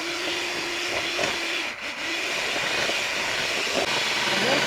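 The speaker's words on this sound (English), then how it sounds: "we are still going to use our mixer to give us the right consistency" Electric hand mixer whipping cream with white chocolate for a piña colada cake, a loud continuous whirring hum with a brief dip in pitch partway through.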